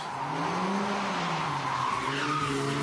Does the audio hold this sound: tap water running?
no